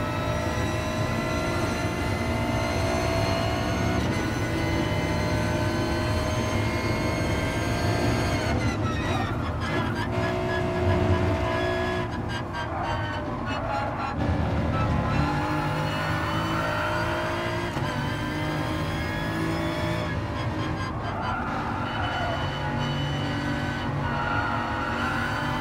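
BMW M4 lapping Suzuka Circuit, engine droning steadily with rising and falling revs through gear changes, loud and continuous with tyre and wind noise, faint talk underneath.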